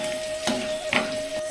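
Onions frying in a home-kitchen pan until browned, a steady close sizzle with a couple of soft scraping stirs and a faint tonal hum running underneath.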